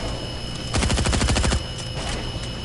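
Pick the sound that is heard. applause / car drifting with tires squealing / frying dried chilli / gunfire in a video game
gunfire in a video game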